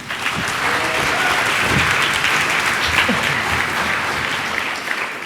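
Sustained audience applause at a PyCon UK 2019 lightning talk session, dense and steady throughout, welcoming the next speaker at a Python conference.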